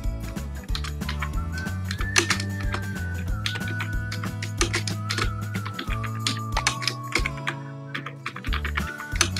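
Fingers type a school ID on a computer keyboard, a steady run of close, crisp key clicks and taps over a sustained low background tone, continuing throughout with no pauses.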